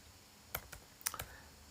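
Typing on a computer keyboard during a Git configuration tutorial: a handful of quiet, crisp key clicks in quick succession over a faint room hiss.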